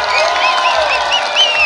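Concert audience in Estonia cheering and applauding, a loud dense crowd roar with whoops and shouts over continuous clapping.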